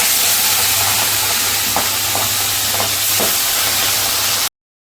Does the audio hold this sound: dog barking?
no